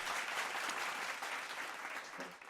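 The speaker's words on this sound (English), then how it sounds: "Thank you for the applause, guys." Studio audience applauds a correct quiz answer, a dense burst of clapping that fades slightly toward the end.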